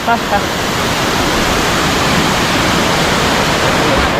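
A waterfall at Tilari Dam roars nearby, a loud, unbroken rush of falling water that fills the whole scene.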